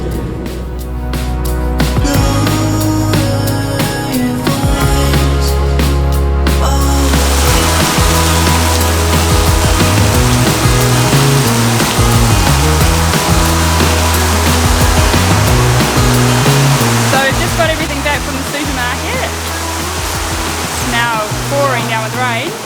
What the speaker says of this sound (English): Pouring down with rain